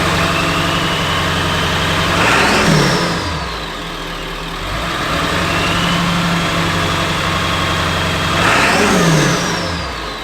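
Ford OBS pickup truck engine fitted with a Banks 4-inch exhaust, loud and close, revving up twice in swelling rises and falling back to a deep idle between, with no talking.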